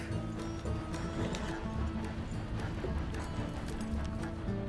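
Horse hooves clip-clopping in the video game Red Dead Redemption 2, faint repeated hoofbeats under ambient game sound, with a soft voice speaking briefly.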